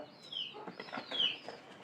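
Pigeons in a home loft with straw nesting bedding, giving soft fluttering wingbeats and faint, scattered calls that stay quiet and close throughout.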